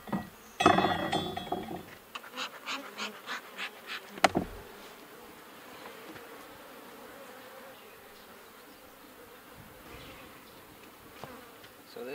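Honey bees drone around an open hive with deep frames in a hive butler, a soft steady buzz after a few sharp clinks and knocks of equipment early on.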